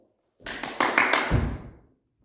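A quick burst of hand claps during a PE ball-catching game, roughly four or five sharp, close claps in rapid succession, followed by a duller thud like a ball being caught, then silence.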